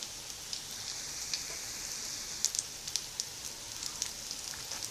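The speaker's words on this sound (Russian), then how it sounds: "И обжариваем с другой стороны." Liver-filled pirozhki fry in about two centimetres of oil, giving a faint steady sizzle with scattered small pops and crackles throughout, no talking.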